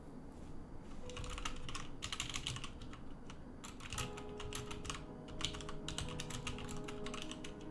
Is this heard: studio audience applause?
no